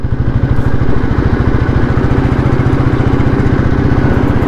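An old Royal Enfield Bullet 350 motorcycle thumps steadily along a road, its single-cylinder engine giving a loud, close, rapid rhythmic beat with mechanical clatter throughout.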